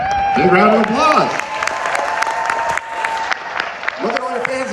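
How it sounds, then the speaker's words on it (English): Audience applause at a Wonka panel at a chocolate expo, continuous clapping from a crowd with scattered voices and cheers over it throughout. "Big round of applause."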